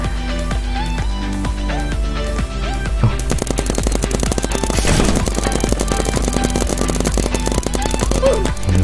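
Paintball gun firing in the Roblox game Big Paintball, a rapid steady stream of sharp clicking shots that starts after a few seconds and keeps going, with game sounds and a voice in the background.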